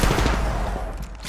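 Enemy gunfire in a shooter video game: loud, close, rapid automatic bursts packed densely together across the short stretch.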